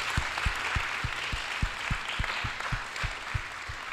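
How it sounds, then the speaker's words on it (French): An audience claps steadily while a regular low thumping beat pulses underneath, roughly three beats per second. "Yeah, I think we can clap."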